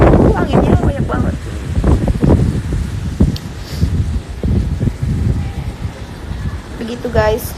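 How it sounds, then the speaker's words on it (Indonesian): Strong gusty wind buffets the microphone with heavy low rumbling bursts throughout, and a person speaks underneath the blustery roar. "Anginnya banyak banget."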